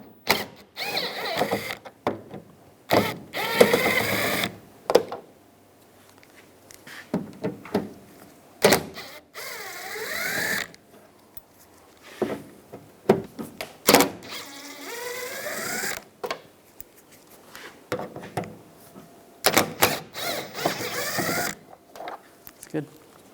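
Bolts being backed out of the tailgate molding on a 1999-2006 Chevrolet Silverado 1500 with a T30 socket, close-up bursts of ratcheting, scraping and squeaky metal turning, broken by pauses, with a voice talking now and then.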